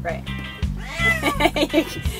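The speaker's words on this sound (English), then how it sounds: "Can you hear the cat?" A cat aboard a cruising sailboat meows several times in quick, wavering cries amid a low mechanical hum and people talking nearby.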